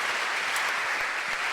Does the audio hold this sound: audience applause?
yes